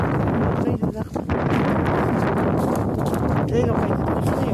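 Strong wind roars steadily and loudly outdoors near toppled trees, buffeting the microphone in rough, continuous gusts.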